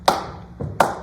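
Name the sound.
hand claps imitating the Land of a Thousand Dances groove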